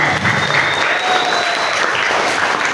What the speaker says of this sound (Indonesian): Kasih tepuk tangan dulu dong.